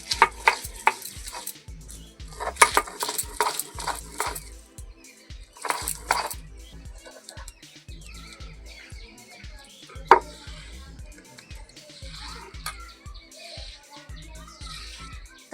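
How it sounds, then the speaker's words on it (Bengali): Garlic being ground for a desi chicken curry, with repeated scraping and rhythmic pounding strokes at close range, irregular bursts spread over about fifteen seconds. "আমি রসুনগুলো এখন বেটে নিচ্ছি মাংসের জন্য।"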